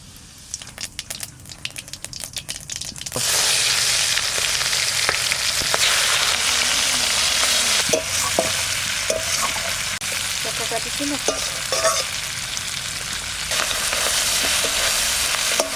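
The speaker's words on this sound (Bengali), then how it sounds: "মাছটা মাথাটা একটু ভেজে নেব" A hilsa fish head fries in oil in a pan, sizzling loudly and steadily with occasional scraping and stirring clicks, after a few seconds of quieter clatter at the start.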